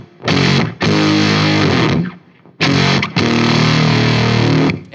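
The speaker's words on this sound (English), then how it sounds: "That gives me that really nice, spitty kind of fuzz tone." Electric guitar through an octave fuzz on the bridge humbucker rings out in two loud, spitty, buzzing chord bursts, each sustained about two seconds with a short gap between.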